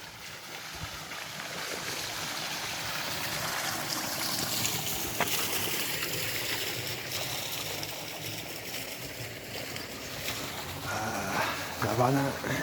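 Water of the Céor stream flowing past a small dam, a continuous broadband rush heard close and steady, with someone talking over it.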